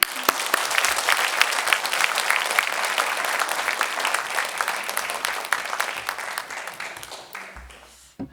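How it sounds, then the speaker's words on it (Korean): Warm applause from a Korean church congregation welcoming a preacher at Sunday worship, many hands clapping steadily and loudly, then thinning out and fading near the end. "우리 격려의 박수와 함께 맞이하겠습니다"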